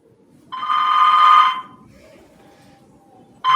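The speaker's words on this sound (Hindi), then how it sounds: "ये भी किसी सिफारिश करने वाले का फोन ही होगा" A telephone rings on stage during a live Hindi theatre play, a loud electronic ring burst lasting about a second, then a low room murmur, with another ring starting at the end.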